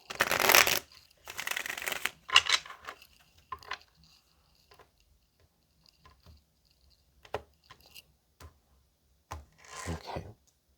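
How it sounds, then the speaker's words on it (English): Several bursts of tarot cards being shuffled, brisk riffles up close, followed by softer scattered taps and a last short riffle near the end. "One more shuffle."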